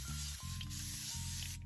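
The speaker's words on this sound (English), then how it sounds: "Let's do some spray first." Spray bottle misting during a makeup routine, a quick airy hiss of a few short spritzes close to the listener over a steady low background hum.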